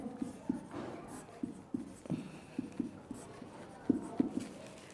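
Writing on a board during a maths lesson on train speed problems: quiet, rhythmic scratching strokes in short bursts, close up.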